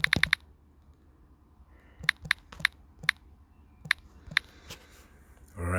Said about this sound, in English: I'm just gonna type something.